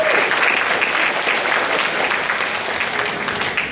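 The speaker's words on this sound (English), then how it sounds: "let's give a round of applause to everybody that received the" An audience at a school honors banquet applauds, a dense, steady wash of clapping that carries on throughout without easing off.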